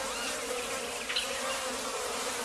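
Bees buzz around yellow palm flowers, a close, steady insect hum with a few brief louder passes, and no voices.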